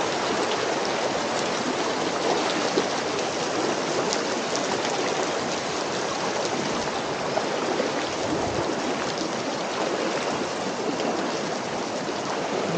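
A waterfall and mountain stream at Koyanagi Falls in Yufugawa Canyon, Japan, rush in a steady, loud broadband roar of falling and churning water that continues without a break for the whole stretch.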